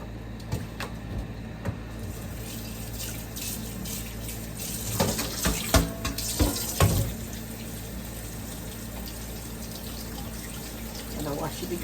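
Water runs from a tap while something is being washed again, a steady splashing stream with a few louder splashes and clatters in the middle, close by with no talk.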